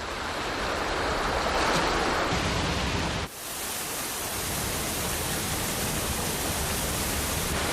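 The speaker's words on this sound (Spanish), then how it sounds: "El mar es bravo en estas costas solitarias" Rough sea surf breaking on a lonely New Zealand beach strewn with driftwood and dead trees, a steady loud roar of crashing waves with a sudden shift in texture midway, no voices.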